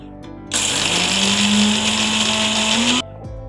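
An electric mixer-grinder powders dried red chillies with salt, a loud steady whirring motor roar running for about two and a half seconds with a rising hum, beginning and ending abruptly, no talk.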